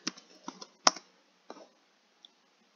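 Someone types ifconfig on a computer keyboard: a short, close run of crisp key taps with one louder click, then two isolated taps in quiet.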